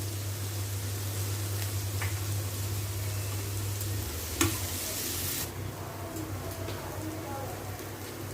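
Onions frying in a pan with a spoonful of gram flour being stirred in, a steady soft sizzle running throughout with a brief clink near the middle, no one talking.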